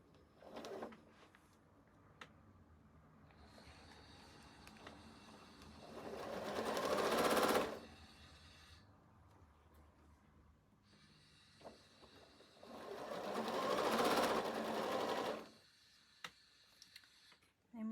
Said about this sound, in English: Stitch that last seam.